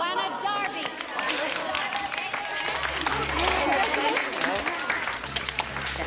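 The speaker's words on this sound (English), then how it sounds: "Better get out there while they're still applauding." A theatre audience applauds after a designer is introduced on stage, a steady, full wash of clapping with crowd murmur and scattered voices running through it.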